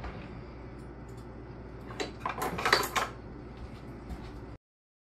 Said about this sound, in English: Cut up some green onions